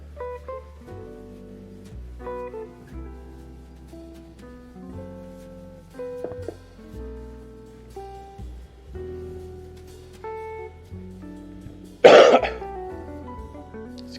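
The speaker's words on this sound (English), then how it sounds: "Excuse my cough, I apologize for that." A single loud, rough cough breaks out near the end of a cooking session with a casserole, standing out sharply over a steady tonal background.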